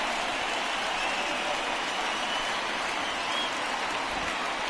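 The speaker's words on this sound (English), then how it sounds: "Look at the crowd. They pumped." Crowd noise in the MLB The Show 19 baseball video game, a dense, steady roar of a stadium crowd that holds evenly the whole time with no speech over it.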